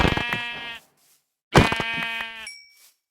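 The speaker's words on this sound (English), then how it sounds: "I'm going to need to kill these sheep too, because they're kind of in the way" Two Minecraft sheep bleats sound close and clear, each a wavering nasal baa lasting under a second, with a short pause between them. The second bleat trails off into a faint high ring.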